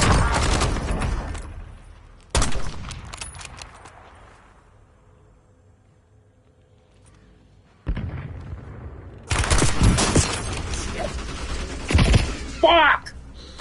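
Bursts of gunfire in the Call of Duty Warzone battle royale on the Verdansk map, loud clusters of shots separated by quieter lulls, with clamorous in-game noise and a voice shouting under the action.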